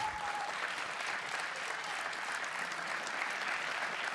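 Steady applause from a crowd at an LCS Promotion esports event fills the whole stretch, a dense even patter of many hands clapping with no pauses.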